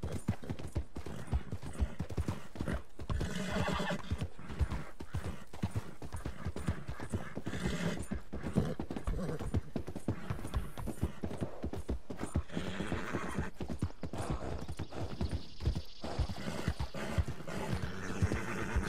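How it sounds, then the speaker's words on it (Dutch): Steady clip-clop of horse hooves runs throughout in the Red Dead Redemption video game, rhythmic and fairly close, with a horse whinnying partway through amid light game sound effects. "Zo, dat paard dat wordt mishandeld of zo."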